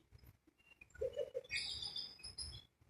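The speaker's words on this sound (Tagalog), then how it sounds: "Ayun yung mga uri ng ibon dito oh." Birds chirp in Hong Kong Park, a few short, bright calls and tweets scattered over a quiet outdoor background, fairly faint and intermittent.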